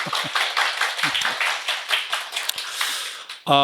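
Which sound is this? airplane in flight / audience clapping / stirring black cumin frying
audience clapping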